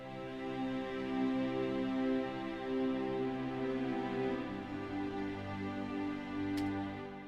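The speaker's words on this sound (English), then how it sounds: "So just play the block chords of the string, same on the piano." Sustained block chords on strings and piano for an emotional pop ballad, held steady without movement, forming a soft, continuous harmonic wash that swells gently, with no voices.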